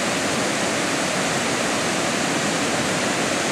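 A river in the Villa Rica–Oxapampa area of Peru, flowing north toward Pozuzo, rushes steadily as a loud, dense, unbroken roar of water with no voices.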